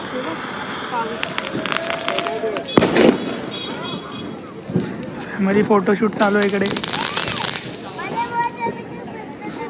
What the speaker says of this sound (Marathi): कुठून पण काय कुठले पण फटाके येतात